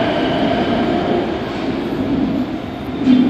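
A Namo Bharat RRTS train on the Delhi–Meerut line runs at speed, heard from inside as a loud, steady rumble and hum with a brief rise in wheel noise near the end.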